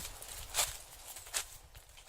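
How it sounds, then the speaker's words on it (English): Footsteps crunch through dead autumn leaves in a slow, soft rhythm, two distinct steps with faint rustling between them. "and the crunching of the now long dead autumn leaves."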